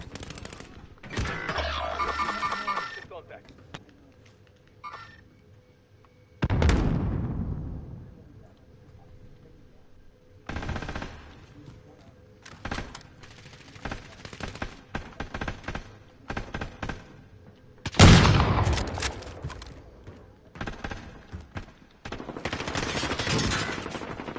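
Video game combat with bursts of gunfire and heavy booming impacts, including a loud blast near the middle and another later, scattered among quieter stretches and brief pauses.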